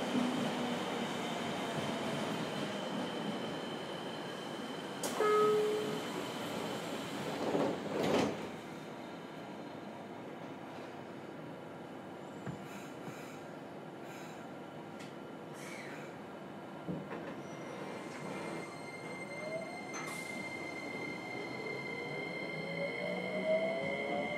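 A JR Kyushu 303 series train, set K02, on a local service from Meinohama toward Chikuzen-Maebara, with a steady onboard running rumble and motor hum. Brief door-like clunks come early, and a thin tonal whine rises and falls throughout.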